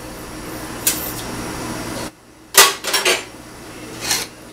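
Twelve chicken legs going into a pot for ranch-style mole, with metallic clatters and scrapes of cookware, then a few sharp clanks as a lid is set on, over a low background hum.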